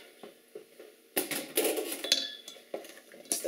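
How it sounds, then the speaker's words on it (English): Beans tipped into a pot for smoky chipotle baked beans, giving a run of close, loud metallic clinks and scrapes against the pot after a few quiet taps, with no talking. "In go the beans."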